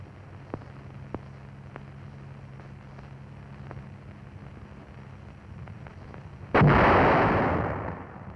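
An 81 mm M252 mortar round bursts during military training, a single loud, sudden blast that rolls out and fades over about two seconds, following a stretch of low ambient rumble with a few faint clicks.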